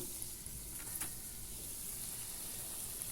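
Bhalla batter mixed with red chili frying in hot oil, a quiet steady sizzle with faint crackles and one brief sharper pop.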